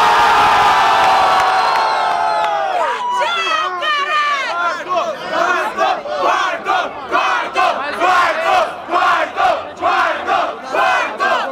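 A Brazilian freestyle rap battle crowd at a grand final erupts in loud cheers, then breaks into rhythmic chanting with steady repeated shouts, close and full.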